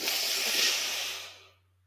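A single breath drawn in through the nose during 4-4-4 box breathing, a loud, close, airy hiss lasting about a second and a half before it fades to silence.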